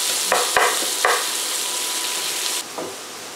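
Onions seasoned with salt and black pepper fry loudly in a pan, giving a dense steady sizzle with a few clattering stirs early on before the hiss suddenly drops lower.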